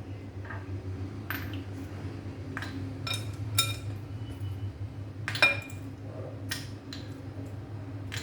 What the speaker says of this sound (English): We have to remove the ice cubes.